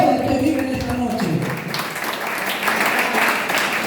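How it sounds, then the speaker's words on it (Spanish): Church congregation applause rising after a preacher's voice, a broad patter of many hands clapping that fills the room and holds steady. "Aplauda al que vive en esta noche."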